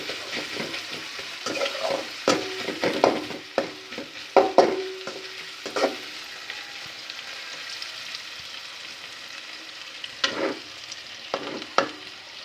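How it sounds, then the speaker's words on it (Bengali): Onions fry in a pot for a mezbani beef curry, with a soft continuous sizzle broken by repeated close scraping strokes of a stirring spoon that come in irregular bursts. "পেঁয়াজ ভাজি করতেছি অলরেডি"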